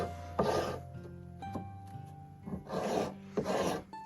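Rasping strokes of a scraper along a wooden throwing-axe handle, a few bursts of rough scraping with quieter pauses between, close and fairly loud, no talking.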